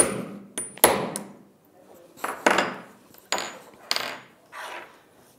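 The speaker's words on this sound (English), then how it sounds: "and give it a bang with a hammer." A hammer bangs a snap fastener setting tool while fixing a teddy bear outfit: several sharp metallic strikes spaced unevenly, close and loud, with some light handling noise between them.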